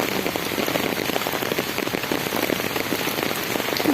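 Heavy rain pounds down in a dense, continuous roar of drops striking surfaces, loud and steady from start to finish with no voices.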